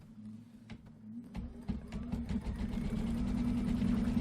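Embroidery sewing machine stitching a Kimberbell pillow design, starting with a few separate clicks, then building into a rapid steady mechanical whir with a low hum and quick rhythmic needle ticks.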